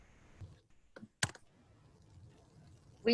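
Typing on a computer keyboard shows up as a few sparse, sharp keystroke clicks with quiet gaps between them, and a louder click lands right at the end.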